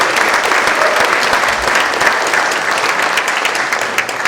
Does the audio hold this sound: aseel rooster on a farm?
no